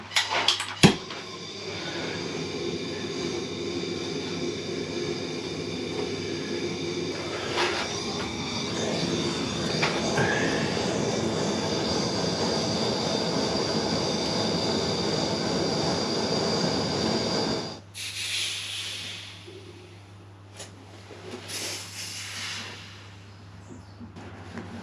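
A blowtorch heats a copper pipe for soldering during a bathroom renovation: a loud, steady roar holds for about seventeen seconds, then stops sharply, leaving a quieter background with a few faint knocks.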